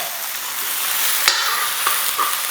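Pork spare ribs sauté in a pan until browned, giving a loud close hiss of sizzling fat with a few quick clinks and scrapes of stirring and no voices.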